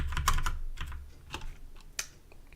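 Soft, uneven keystrokes tap on a computer keyboard as code is typed, in short clustered bursts, close and quiet in a calm room.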